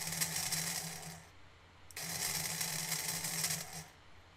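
A small RobotC-controlled robot motor whirs faintly in two short runs, with a brief pause between them.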